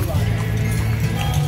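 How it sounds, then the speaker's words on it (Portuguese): Ox carts roll past in a procession at a religious festival, with steady clopping hooves and rumbling wheels close by, under nearby chatter. "Dá uma mostradinha aqui para vocês ver o tanto de carro de boi que vem já daqui"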